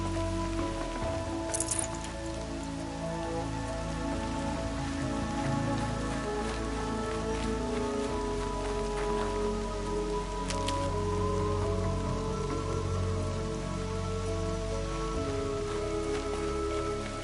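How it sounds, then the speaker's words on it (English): Steady rain falls throughout a scene in the video game Horizon Zero Dawn, a dense, even patter of drops on surfaces under low ambient tones, with no one talking. "Rain's not so bad."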